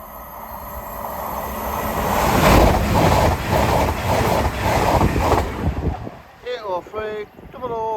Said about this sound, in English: It's a LUMO service from Edinburgh to London King's Cross.